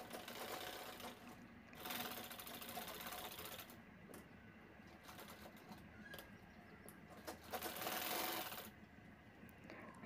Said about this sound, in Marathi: तर ती अशा पद्धतीने शिवून घ्यायची आहे।